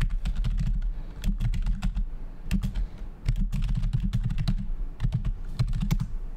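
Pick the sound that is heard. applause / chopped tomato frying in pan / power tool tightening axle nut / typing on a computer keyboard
typing on a computer keyboard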